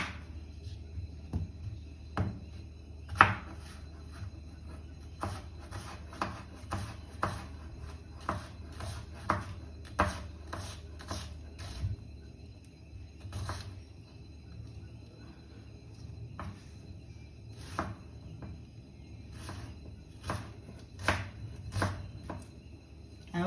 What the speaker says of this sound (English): I also like my onions kind of sort of chunky. So I'm not going to cut them smaller than this.